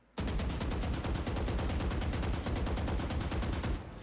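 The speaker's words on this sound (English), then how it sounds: "You can walk and shoot." Rapid, evenly spaced automatic gunfire from a shooting video game fires while the player walks, a loud continuous burst lasting several seconds before stopping.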